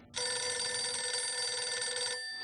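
In Grand Theft Auto: The Ballad of Gay Tony, a telephone rings for a caller to a radio show, giving one sustained, bright electronic ring of about two seconds that starts abruptly and sounds loud and close.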